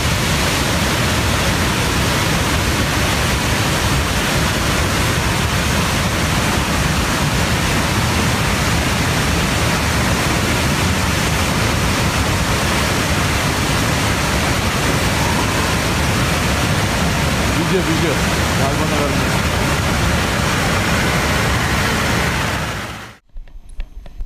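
A waterfall pours directly across a road, producing a loud, unbroken roaring rush of falling water that holds steady for over twenty seconds before cutting off abruptly.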